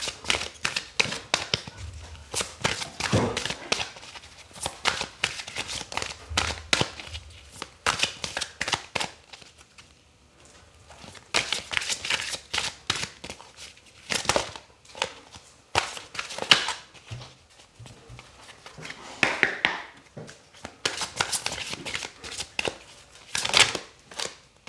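Tarot cards are shuffled by hand for a love reading, bursts of crisp riffling and slapping close by, broken by brief pauses, repeated many times with no talking.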